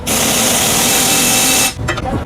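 Loud pneumatic impact gun driving 21 mm bolts on Mahindra XUV500 suspension, a sustained high whirring burst of about 1.7 seconds followed by a few short rattling hits.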